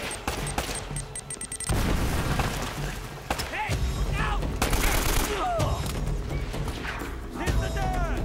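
Explosions and rapid bursts of gunfire fill a fight in the video game Uncharted. Sharp cracks and heavy booms recur across the span with short gaps, and a voice talks over parts of it.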